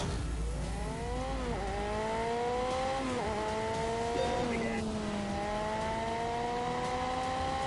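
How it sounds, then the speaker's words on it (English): A car drifts on a track with variable traction-controlled drift, its engine revving in rising, loud sweeps that drop back with each gear change, with tire squeal mixed in, close and continuous. "We're drifting this time, okay."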